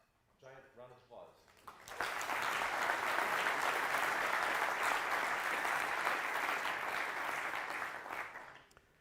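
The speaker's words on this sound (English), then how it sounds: "please give him a giant round of applause" Audience applause for a keynote speaker at a CfgMgmtCamp conference room breaks out after a short spoken introduction, then holds as a dense, steady clapping wash for about seven seconds before tapering off.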